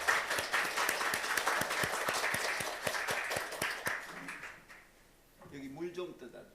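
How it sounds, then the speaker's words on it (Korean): A church congregation applauds at a Christmas service, a dense burst of clapping that runs for about four seconds, thins out and fades, and is followed by a voice speaking. "우리 박수로 청해 듣겠습니다"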